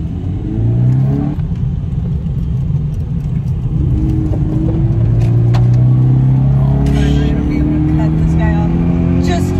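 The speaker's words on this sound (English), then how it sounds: "You hear my turbo whirl?" A car engine with a turbo revs and climbs through its range inside the cabin, a loud rising whine over a deep rumble, heard under people talking.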